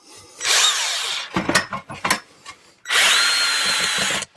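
Cordless power screwdriver driving a screw through a flexible wood-fibre insulation panel, two loud sustained whirring bursts with knocks and handling clatter between them, close up.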